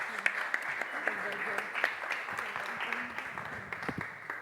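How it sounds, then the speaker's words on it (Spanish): Audience applause at a book presentation at a book fair, honoring a commentator: scattered, moderate clapping from a seated crowd that carries on for several seconds, with a voice speaking over it. "Un fuerte aplauso, por favor."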